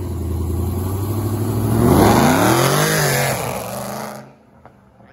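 A loud Porsche 911 Turbo engine revs up to a high roar at a drag racing night at a racetrack in Culiacán, then drops away and cuts off abruptly.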